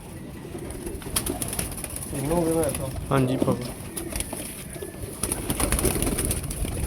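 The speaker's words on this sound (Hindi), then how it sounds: "ये भी दोस्तों बड़ा आला किस्म का कबूतर है और नया पूरा हुआ टैडी कबूतर है" Teddy pigeons coo nearby in a few soft, rolling bursts over a noisy background, while a person speaks briefly.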